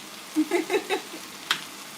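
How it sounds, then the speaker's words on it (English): Carne asada meat sizzles as it fries for smothered fries, a faint crackle with several short popping bursts and one sharper spit near the end. "The sizzle becomes a little more aggressive."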